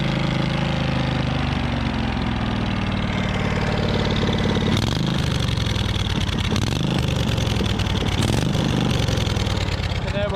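An AKR ride-on machine with a V-twin engine runs loud and steady throughout, with a continuous low, throbbing idle and a slightly rougher stretch partway through.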